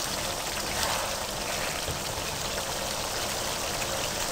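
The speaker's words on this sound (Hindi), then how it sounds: "अब आपने इसमें पानी डाल देना है" Water poured into a pan of frying potato, carrot and pea curry, giving a steady, loud rushing stream with a bubbling sizzle that holds evenly from start to end, with no talking.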